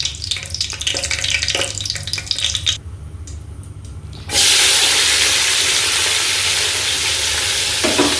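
Cardamom and bay leaves sizzle and crackle in hot oil in a pan, briefly quieting before a loud, steady hiss of frying surges in and holds to the end.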